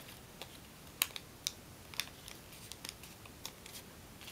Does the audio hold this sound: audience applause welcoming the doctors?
no